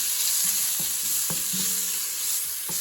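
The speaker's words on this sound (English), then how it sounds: "We are gonna fry up our bacon." Bacon fries in a Dutch oven with a constant close sizzle, punctuated by a few soft knocks and scrapes of a spoon, without any talk.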